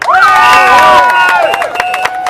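A crowd at an outdoor Covid-19 protest at Queen's Park, Toronto, cheers loudly and claps, with shouts and whistles in a dense burst.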